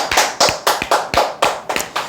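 A few people clap in unison during an insurance telemarketing coaching session, about nine sharp, evenly spaced claps in a quick rhythm, close by and without talk.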